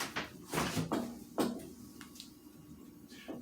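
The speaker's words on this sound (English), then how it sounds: "move this chair out the way." Several short knocks and scrapes as a chair is bumped and dragged across a kitchen floor, with thuds spaced unevenly and quieter after the first seconds.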